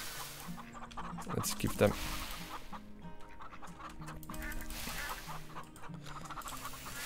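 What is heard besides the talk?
chickens clucking in video game Farm Together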